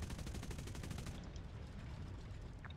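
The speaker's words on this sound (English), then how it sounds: "fire the guns under braking" Machine guns of an F2A fighter plane in the War Thunder video game fire in a fast rattling burst for about a second, then fade into a steady engine drone.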